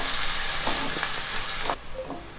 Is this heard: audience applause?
no